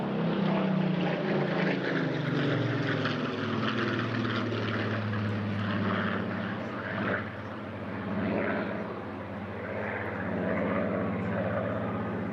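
A propeller-driven aircraft, a wartime photographic reconnaissance plane flying at the Eastbourne International Airshow, gives a steady, loud engine drone with a continuous throaty hum and slight rises and falls in pitch as it passes, and no talk over it.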